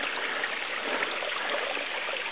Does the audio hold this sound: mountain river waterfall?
yes